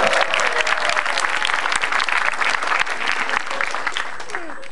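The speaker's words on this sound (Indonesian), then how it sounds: "Tepuk tangan buat lu semua" Live comedy crowd applauding, a loud dense burst of clapping mixed with cheers and laughter that eases off slightly toward the end.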